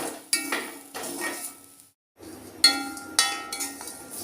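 Coconut with a little tamarind being roasted and stirred in a pan, a spoon scraping and clinking against the metal in repeated strokes, a short pause midway, then more brisk stirring, close and fairly loud, no talking.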